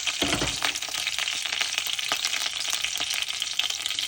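Onion frying in a pan with curry leaves for crab gravy, a continuous moderate sizzle broken by a burst of crackling as it goes in and occasional scraping stirs.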